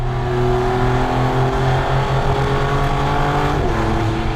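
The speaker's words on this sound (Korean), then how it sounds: "이 MC20 같은 경우는 엔진 소리가 너무나 직접적으로 들리기 때문에" A Maserati MC20 mid-engine sports car engine drones loudly and continuously with a turbo whistle layered on top, steady with slight pitch shifts near the end.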